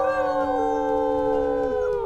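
Several wolves in the WolfQuest video game howl together in long, sustained, overlapping tones that hold steady and then slide down near the end, loud and close.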